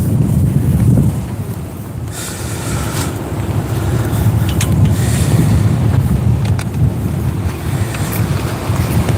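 Wind rushes over a sailboat in the open ocean between Vanuatu and the Solomon Islands, a loud continuous roar and buffeting against the microphone with waves washing underneath.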